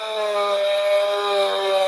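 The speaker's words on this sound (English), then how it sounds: "then I have a Dremel, and it has a little sanding disc on it." A Dremel rotary tool fitted with a small sanding disc smooths the edges of leather, giving a steady, loud, high-pitched motor whine that holds without a break.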